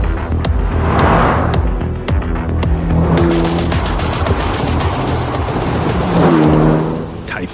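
A heavily modified Lancia Delta Integrale rally car laps a race track, its engine revving hard through repeated gear changes with crackling shifts and surges in pitch, loud and close, with no talk.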